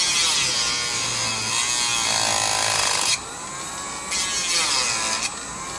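Power tool cutting along a marked line while building a Segway clone, a steady high whine that dips in pitch under load and then runs on, close and continuous.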